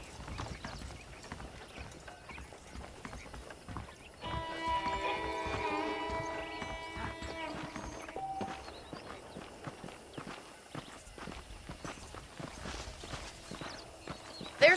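Horse hooves clip-clopping at a walk in the video game Red Dead Redemption, a steady rhythmic patter of close hoofbeats, with a short tonal music sting rising in the middle.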